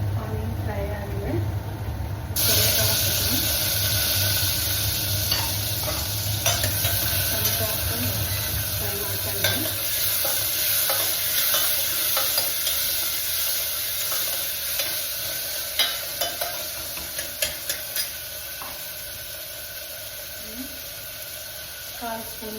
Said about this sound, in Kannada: ಆನಿಯನ್ ಫ್ರೈ ಆಗಿದೆ.